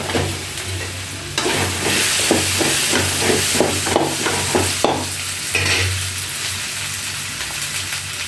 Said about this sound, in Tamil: உருளைக்கிழங்கு முருங்கைக்காய் போட்டு வதக்கலாம்